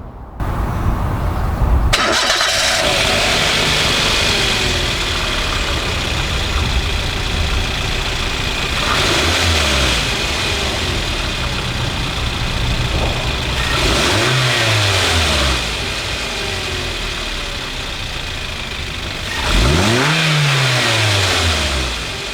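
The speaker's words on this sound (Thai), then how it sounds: "มาฟังเสียงเครื่องยนต์กัน" A Toyota Avanza 1.5G engine cranks and starts, then settles into a loud idle punctuated by three sharp revs that rise and fall, each one close and roaring.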